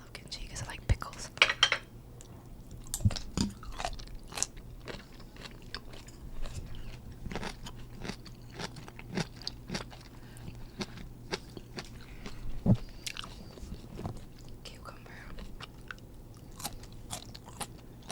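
Close-up mukbang-style eating of kimchi: wet crunching bites and chewing come in irregular bursts alongside faint clinks of cutlery, with soft whispered talk woven through.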